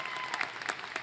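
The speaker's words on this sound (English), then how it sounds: "a round of applause for these outstanding students" An audience applauds at a graduation ceremony, with dense, steady clapping from a crowd in a large hall, moderately loud and continuous throughout.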